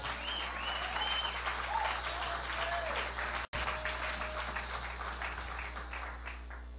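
A church congregation applauds in a sustained wash of clapping that holds steady, then thins toward the end, with a faint voice beneath it.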